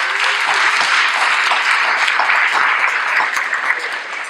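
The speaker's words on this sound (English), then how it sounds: "let's give them a round of applause as well" An audience applauds panelists at a talk on race and the prison system in Fresno, a dense, steady burst of clapping lasting several seconds, alone and fairly loud.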